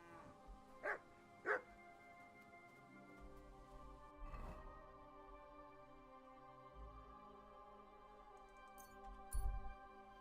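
Dog in Kingdom Come: Deliverance II barking two sharp close barks early on, then a softer yelp and low whimpering, with a faint thud near the end.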